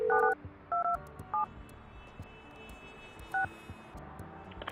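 Phone line installation cue from the building-management game Project Highrise: a few short electronic touch-tone style dialing beeps, loud and clipped, in quick clusters over a quiet game ambience.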